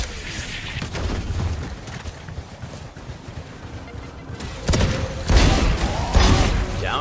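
Sheriff pistol shots ring out in a round of the tactical shooter Valorant, a few sharp, loud bursts between stretches of game ambience and busier noise.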